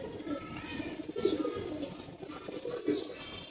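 Giribaz pigeons coo in low, soft, rolling calls that repeat over one another, close by and continuous, with a faint chirp or two behind.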